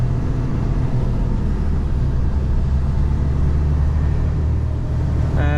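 A Mercedes Actros truck with a 430 brake horsepower engine pulls a load on a cold, slightly slippery road, giving a steady, loud, low rumbling drone from inside the cab that continues without a break.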